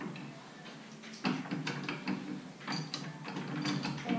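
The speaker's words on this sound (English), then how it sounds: "there's just a little lever down in here, and then you can adjust this basically to the top of the blade, and then lock it back into place" On a Bosch 4100 table saw, the blade guard's small lever is worked to adjust the guard and lock it back in place. Faint, close clicks, knocks and ratcheting mechanical clunks come in an irregular sequence.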